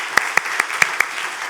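Congregation applause in a church during a 50th-anniversary worship service: a short burst of dense clapping with a few sharper individual claps standing out, fairly close and steady throughout.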